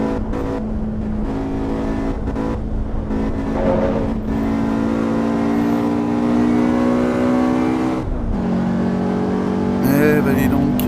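An Alfa Romeo Giulia Quadrifoglio race car in the Assetto Corsa Evo video game holds a steady engine drone with rising harmonic revs, a brief dip near eight seconds, then climbs again, loud and continuous throughout.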